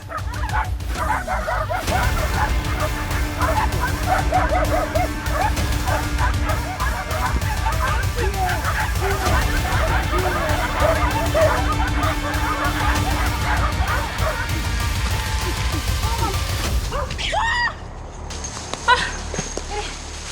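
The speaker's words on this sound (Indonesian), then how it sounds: "Tiba-tiba dari kejauhan terdengar gonggongan anjing." Hunting dogs bark and yip repeatedly over a busy outdoor background in Papua forest, with voices talking throughout; the barking sounds somewhat distant and mixed into the noise.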